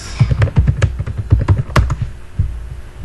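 Typing on a computer keyboard, a quick close run of crisp key clicks for about two seconds that then trails off, no speech.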